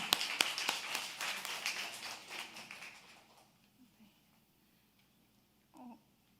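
A church congregation claps in welcome for the pastor's wife during a Wednesday service, a few seconds of scattered clapping that fades out, followed by quiet with a faint brief vocal sound.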